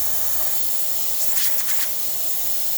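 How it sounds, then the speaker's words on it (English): Steam hisses steadily from the steam wand of a freshly serviced Isoma Milano espresso machine, a close, loud, continuous rush with a few brief sputtering bursts near the middle. "Steam coming out great out of the steamer one."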